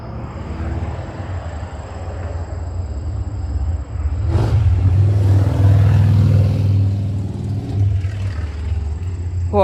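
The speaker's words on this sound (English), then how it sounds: "There was a loud motorcycle." A loud motorcycle roars past nearby, its engine rumble building to a peak, holding, then easing away.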